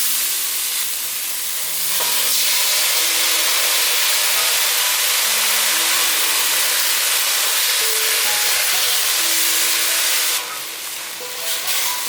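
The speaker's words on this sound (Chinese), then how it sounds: "大约炒了2分钟，把番茄放进来。" Tomatoes go into a hot pan with king oyster mushrooms that have been stir-fried for about two minutes, giving a loud, steady sizzle and hiss with faint scraping of stirring throughout.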